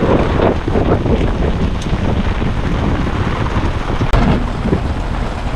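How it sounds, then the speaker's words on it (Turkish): Steady heavy rain hisses over gusting wind on a boat at sea, with a low rumble of thunder in the background and a sharp knock partway through. "Yağmura bak yağmura."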